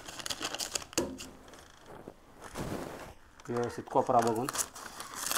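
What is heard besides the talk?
cutting the corners of an empty oil tin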